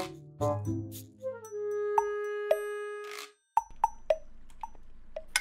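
Water sounds in a video game: a run of clean plops and droplet blips, first sliding downward in pitch, then a brief pause followed by a string of separate, close drips. No one speaks.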